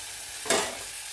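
Garlic and green chillies fry in a pan, giving a steady hiss that swells into one short, louder sizzle burst midway.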